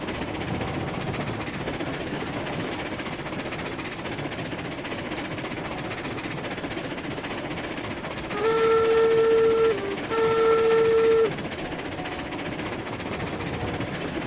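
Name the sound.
Cook 280 locomotive pulling a train in Railroads Online video game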